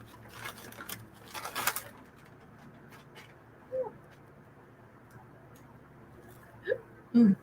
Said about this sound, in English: Pardon me, hiccup.